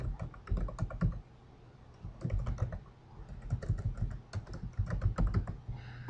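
Typing a group name on a computer keyboard, quick bursts of crisp close key clicks separated by short pauses, fairly quiet with no talking.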